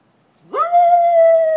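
A single puppy howls close by on a farm, rising quickly into a long, steady, high wail that holds without a break.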